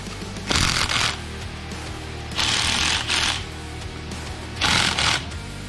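A ratchet torques the cam plate bolts on a 2022 Harley-Davidson CVO Road Glide, producing three close bursts of rapid clicking separated by quiet pauses over a low steady hum.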